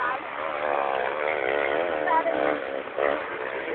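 Dirt motorcycles, including a yellow minicross bike, race past at a Dakar-style event in Dobroč, their engines whining and rising as they pass, heard under people chatting nearby.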